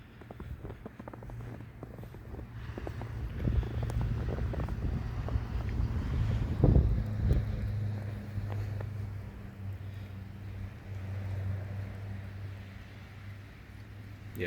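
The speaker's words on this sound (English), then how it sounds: "there's a little bit of a wind picking up, kicking it around too" Wind gusts at night during a wet snowfall in Bath, Maine, a low rumbling buffet that swells in the middle and then eases, close to the microphone.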